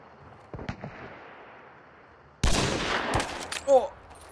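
Sniper rifle shots in a shooter video game: a few sharp cracks over quiet ambience, then a loud sudden report with echoing tail and a short whistling sound after.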